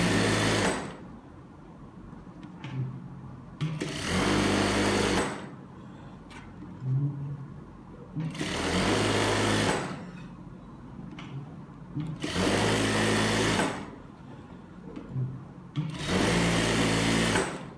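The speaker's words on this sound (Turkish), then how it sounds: "Lastik tam ortalı bir şekilde dikişimi çektim." A sewing machine stitches elastic into the waistband of size 42/44 trousers in loud bursts of rapid whirring needle runs, pausing between each seam with quiet handling sounds.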